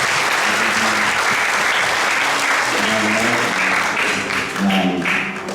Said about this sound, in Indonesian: Jadi mari kita beri aplaus sekali lagi.